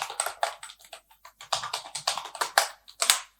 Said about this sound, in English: now you need to type the password